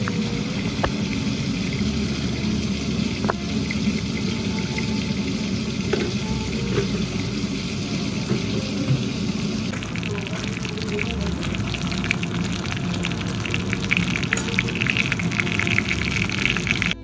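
Pieces of katla fish fry in a hot pan for doi katla, a constant dense sizzle and crackle lasting throughout with occasional sharper pops and spatters, close and fairly loud.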